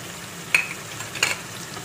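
Cumin paste, garlic, ginger and tomato puree masala fries in a pan for rui fish kalia, with a steady soft sizzle broken by two short scraping stirs about a second apart.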